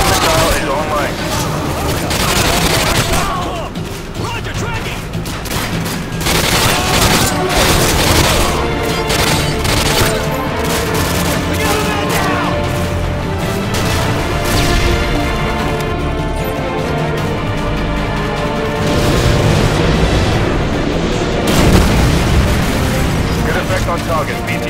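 Dense, loud battlefield din from a Call of Duty Modern Warfare 2 mission as an AGM missile strikes and destroys a BTR armored vehicle: sustained booming explosions and crashing debris with gunfire, radio-style voices talking over the chaos throughout.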